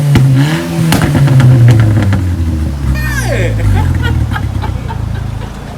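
A 2020 BMW G20 M340i revs up close, loud rising and falling engine tones with a brief whistling sweep partway through, over a steady idle.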